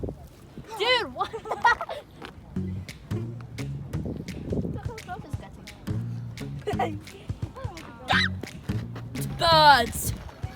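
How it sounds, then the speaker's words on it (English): Large waterbirds such as geese and ducks honk and call repeatedly at the water's edge while being fed. The calls come near and loud in uneven bursts, mixed with bits of people talking. "Birds!"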